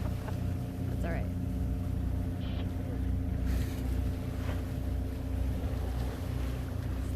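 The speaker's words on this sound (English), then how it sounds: "So we're motor sailing and making water." A sailboat motor sails in light wind of about 6 to 10 knots in slightly rolly seas, with a steady low engine drone, water wash and wind buffeting the microphone, while a person talks.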